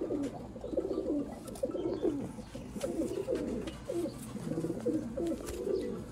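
Pet pigeons, rare black-faced fancy birds, coo softly and repeatedly at close range, with low throaty warbling phrases overlapping one another and no talking.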